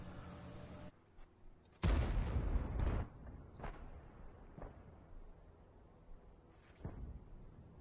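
Artillery fire in World of Tanks: a heavy, booming blast lands loud and close, followed by a few sharper distant thuds and cracks spaced out over the next seconds.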